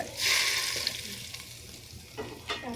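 Ginger garlic paste hitting hot oil sets off a short, bright sizzle that fades into a softer crackle, with a couple of small utensil taps near the end.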